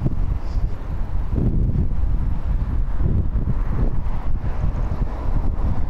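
Strong wind buffets the microphone on a bicycle ride through Espoo, a continuous loud low rumble with gusty surges throughout and no voices.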